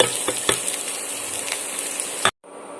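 Green chillies and garlic sizzle in a hot pan with a steady, close frying hiss, broken by a few sharp scrapes and knocks of stirring before cutting off suddenly.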